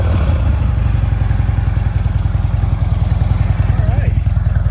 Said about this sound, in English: Not super loud, got a good exhaust tone to it.